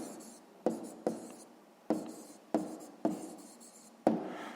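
A pen writes by hand on paper while math answers are noted down, making six sharp scratchy strokes at uneven intervals, close and fairly quiet, with no talking.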